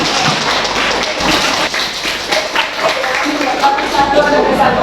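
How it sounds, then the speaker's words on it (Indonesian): A classroom of students claps their hands together, a loud dense burst of quick overlapping claps close by, sustained for several seconds with some voices mixed in. "Tepuk tangan"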